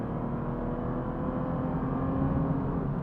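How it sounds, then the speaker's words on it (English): Steady engine drone from a 2010 Aston Martin V12 Vantage with a 510 hp V12 and six-speed manual gearbox while driving, a continuous low rumble with road and wind noise and no change in pitch. "This is a V12 Vantage Aston Martin."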